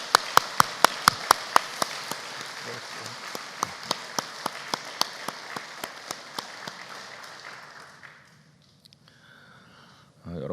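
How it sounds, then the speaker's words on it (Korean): A church congregation claps in unison, a steady run of sharp, evenly spaced claps that gradually fade and trail off into near silence before a faint sound returns at the very end. "그래서 오늘 한번 박수를 해주고 싶어요."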